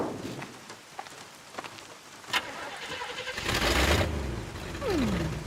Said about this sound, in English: Engine still purrs nicely.